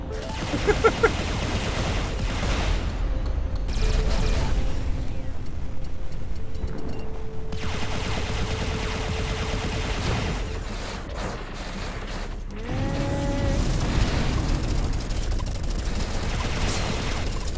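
Missiles exploding in the space shooter Everspace 2, heard as a steady churn of blasts and rumble that keeps going with brief dips and swells, with a few rising tonal sweeps from ship systems mixed in.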